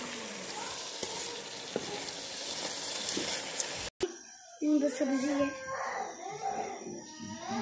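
Tomato paste lightly frying in a pan for paratha filling, a soft broadband sizzle after a brief cut, with stirring scrapes and a voice speaking over it.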